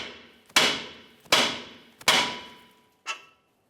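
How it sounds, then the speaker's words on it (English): Four sharp metallic hammer blows on the steering knuckle of a 2005-2010 Dodge Dakota front suspension, evenly spaced with ringing decay, close and loud, the last strike lighter. "Let's continue on with a hammer. Cause a little bit of vibration right along the knuckle"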